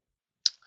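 A single crisp mouse click in OptionVue options-trading software, one short sharp tick alone in an otherwise silent moment with a faint tail after it.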